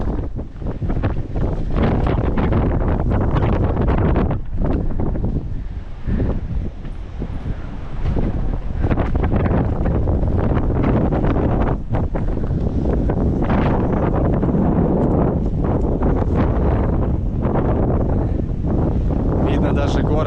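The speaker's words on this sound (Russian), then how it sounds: "Ветер просто херачит здесь." Strong wind on Gibraltar buffeting the microphone in loud, continuous roaring gusts, with voices talking underneath throughout.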